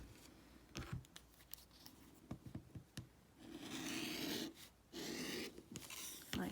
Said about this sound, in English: So I'm going to cut down the middle.